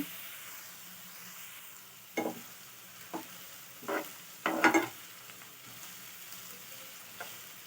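Chopped onions with curry leaves and a pinch of salt fry quietly in a pan for paneer bhurji. A soft, steady sizzle is broken by a few sharper bursts as a spatula stirs and scrapes.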